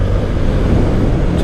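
A TVS Apache RTR 160 4V motorcycle engine running with a loud, steady low rumble that fills the short stretch, blended with wind-like buffeting and no talking.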